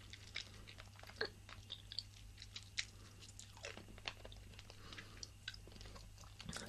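Someone chews a chewy Italian hard candy close to the microphone, with soft sticky chewing and small crunchy clicks repeating irregularly over a low steady hum, no talking.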